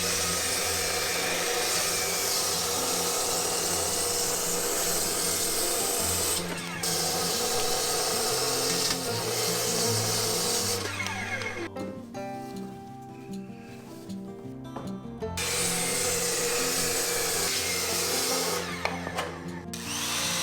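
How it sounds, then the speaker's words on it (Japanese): A power saw cutting wooden posts to length for a hand-joined firewood shed, a long steady whining cut that dips and restarts partway through, with no talking. "柱の長さを切ります。 一度に大丸で切ります。"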